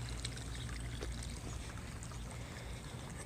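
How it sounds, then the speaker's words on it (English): Water pours steadily from a small waterfall at an American Legion memorial monument in downtown Wickenburg, a continuous close splashing and trickling with no pauses or voices. "Beautiful waterfall."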